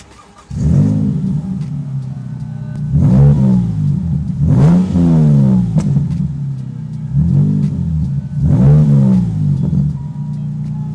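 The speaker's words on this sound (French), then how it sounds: "on va procéder au démarrage. Vous allez pouvoir entendre cette ligne d'échappement assez particulière." A Morgan Plus 8 engine starts up and settles into a deep idle, then is revved four times in blips that rise and fall through its distinctive exhaust, loud and close with no voices.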